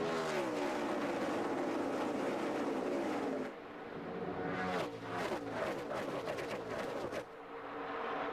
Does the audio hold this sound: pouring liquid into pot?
no